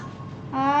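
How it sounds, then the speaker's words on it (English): A pet cat gives a short, clear meow at close range that rises and holds briefly, following a quiet stretch of low household room noise. "Hi, kitty cat."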